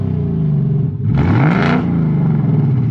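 A 2024 Mustang GT V8 fitted with a Magnaflow H-pipe catback exhaust idles with a deep, mellow burble, then blips sharply into a short loud rev that rises and falls before settling back to a steady idle.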